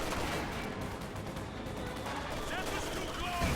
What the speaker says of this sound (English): Mortar is bombarding the church